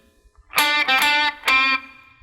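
A distorted electric guitar plays a short solo phrase: a few bright, sustained notes with a brief gap before a final held note.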